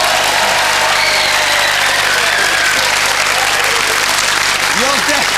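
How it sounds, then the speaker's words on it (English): A studio audience at a 1999 television game show claps steadily and loudly throughout, a dense, continuous applause filling the room with a few faint voices underneath. "Big round of applause"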